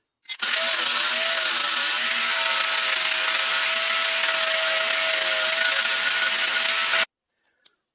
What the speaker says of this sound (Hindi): मैं यहाँ पे लोहा काट रहा हूँ